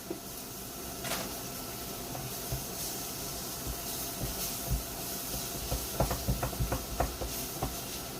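Onions hitting hot oil in a pan after chicken has been browned, giving a steady broad hiss with scattered crackles and a few sharper pops toward the end, fairly faint and with no talking.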